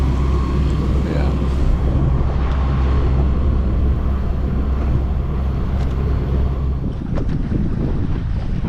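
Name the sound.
wind at sea while sailing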